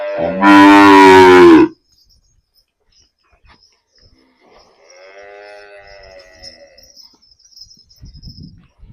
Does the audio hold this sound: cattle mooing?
yes